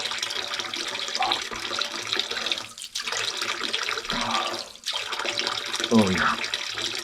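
Tap water runs into a sink as someone washes their face on a hot day, a steady close splash broken by brief pauses and cupped-hand splashes, with a voice heard now and then.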